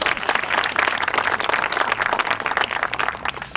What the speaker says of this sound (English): First of all, I guess we'll clap.